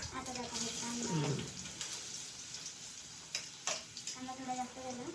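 Onion fries in a pan for Maggi noodles, a faint crackling sizzle with a few clinks of a utensil against the pan, while someone talks over it.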